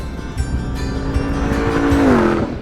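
A 777hp Ram TRX SRT and a 720hp Ford Raptor R drive hard across the desert terrain of Johnson Valley, loud engines revving and climbing in pitch with tire noise and rushing wind, alone without speech.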